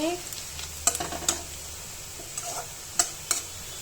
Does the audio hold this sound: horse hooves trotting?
no